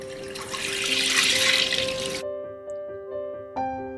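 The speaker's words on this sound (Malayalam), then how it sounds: "മൂന്ന് ലിറ്റർ പാൽ ഒഴിച്ചു കൊടുക്കുക" Milk pours steadily into a metal pressure cooker for a couple of seconds, then stops, leaving a faint ringing hum and a light clink.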